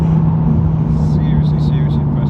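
A twin turbo Audi R8 making over 1000 horsepower, heard from inside the car as its engine drones steadily and loudly while it pulls, with a few faint high chirps near the end.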